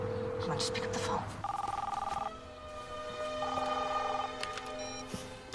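Two bursts of a trilling phone ring sound through an earpiece on an unanswered call, evenly spaced with a pause between them, with a quieter tone earlier and faint background noise.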